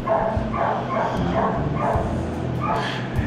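Several dogs bark and yip in a reverberant shelter kennel, overlapping and fairly close, with a person speaking briefly among them.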